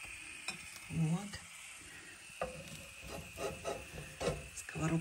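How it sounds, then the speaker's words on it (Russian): Stale bread crusts fry with sugar in a pan, giving a steady soft sizzle broken by scraping and stirring strokes, fairly quiet and close. "Сковородка неравномерно поджаривает."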